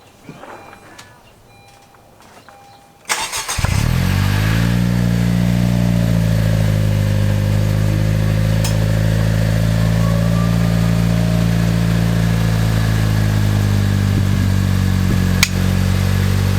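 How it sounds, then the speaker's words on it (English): Turbo Honda Civic with a modified exhaust cranks and fires up after a few seconds of quiet, then settles into a loud, steady idle with a brief light rev, close by. "let's fire it up and hear how it sounds"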